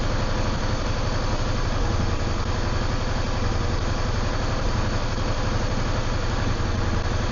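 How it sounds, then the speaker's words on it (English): Yamaha V-Star 650 motorcycle engine idling with a steady, close, pulsing low thrum that holds evenly throughout, the revs creeping up only slightly, with no talking. "you actually feel that the RPM just slightly lifting and lifting and lifting as it's clearing"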